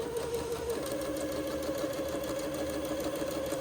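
A sewing machine runs steadily without pause as it stitches a basting thread about 1/8 inch below the top edge of a ruffle for a Christmas dress, giving a close, even mechanical whir.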